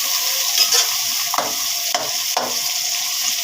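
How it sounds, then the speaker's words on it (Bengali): Liver curry, kolija bhuna, sizzles loudly in a pan as a spoon stirs it, a bright steady hiss broken by three or four soft scraping strokes, close and without voices. "তারপর হালকা একটু নেড়ে চেড়ে নেব।"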